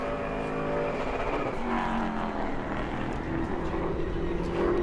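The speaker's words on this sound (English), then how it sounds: "So here comes Corey to complete lap number 1" A loud, steady roar of Pro Late Model racing engines during qualifying at New Smyrna dominates throughout, with the pitch swelling slightly as cars pass.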